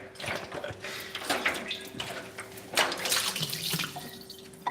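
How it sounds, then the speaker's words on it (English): Tap water runs and splashes as a reusable tray is rinsed under it in a kitchen sink, with uneven gushes and spatters at moderate, close range and no talk. "Just kind of rinse it out."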